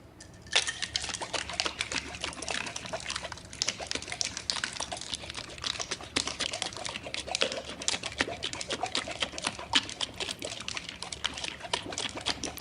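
Orange kulukki sarbath is shaken hard in a closed glass, producing a dense, steady stream of rapid rattling clicks and sloshing that carries on for the whole stretch without any talk.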